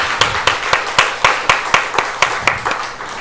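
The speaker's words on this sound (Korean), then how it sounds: "하나님께 영광의 박수 올리게 하겠습니다." A church congregation at a worship service claps in a steady, rhythmic beat, about four claps per second, loud and close, with no talk over it.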